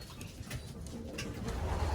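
A racing pigeon coos softly in its loft, low rolling coos close by over a faint background murmur.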